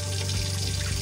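Water runs from the tap of a Lance 1172 truck camper fitted with a new water pump, a steady one-second rush with a low pump hum underneath, fairly loud and close.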